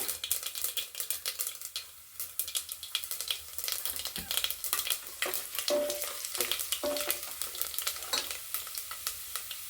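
Mustard seeds, chana dal and cumin crackle and sizzle in hot oil with steady frying hiss, scattered pops and a few stirring scrapes, close and continuous.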